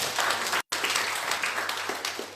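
A church congregation claps together for God after a sermon, producing a brief burst of dense applause broken by a sudden short dropout before the clapping resumes steadily.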